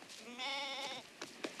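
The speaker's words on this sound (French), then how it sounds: "Découvrit un troupeau de chèvres sauvages." A wild goat gives one close, wavering bleat lasting about half a second, followed by a few short rustling knocks, as a sound effect in a children's story.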